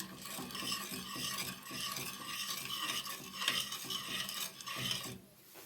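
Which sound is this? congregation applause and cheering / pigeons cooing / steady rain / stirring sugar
stirring sugar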